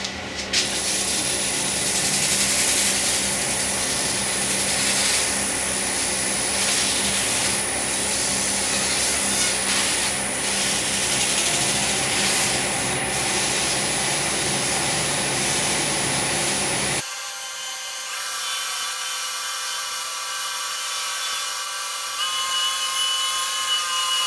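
A wood lathe spins a turned wooden wedding-gift piece with a loud, steady whirring drone for most of the stretch, then cuts to a quieter, lower hum after the motor noise drops away.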